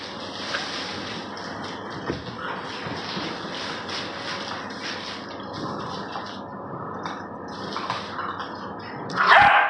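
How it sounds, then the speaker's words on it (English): Puppies with their mother dog indoors, soft whimpers, yips and shuffling against a steady background hum, with a sharper yelp near the end. "The puppies are coming out here."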